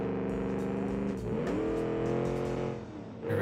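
A GT race car engine in BeamNG Drive revs and accelerates, loud and close, its rising whine dipping briefly before climbing again toward a turn.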